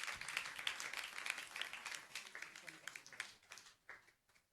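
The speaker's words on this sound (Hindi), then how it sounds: "आप लोग ताली बजा दीजिए एक बार जोरदार।" An audience at a religious question-and-answer gathering bursts into applause, a burst of dense clapping that thins out and fades over a few seconds, fairly faint.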